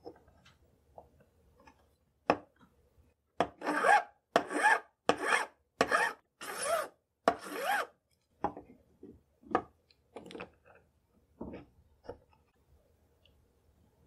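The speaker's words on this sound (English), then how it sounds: "I can cut off most of the excess and then clean it up with the file." A hand file rasping on a metal pin for a 9mm pinfire cartridge: a run of about six steady back-and-forth strokes, close and clear, between scattered clicks and taps in a quiet room.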